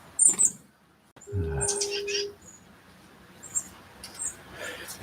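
Birds chirp outdoors on the coast of Maine, giving short high calls scattered through the clip, with a low droning tone partway through and a voice heard faintly in the background.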